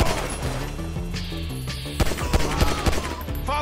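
Gunfire in the video game GTA V, loud, rapid bursts of automatic shots cracking over tonal music, the volleys growing denser and heavier toward the end.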